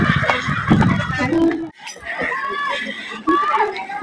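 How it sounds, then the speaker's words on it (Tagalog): Horses at an outdoor spot in Tagaytay, with a whinny rising over a group of people chatting and laughing close by, and the voices stay loud throughout. "Yan guys, may kabayo sila."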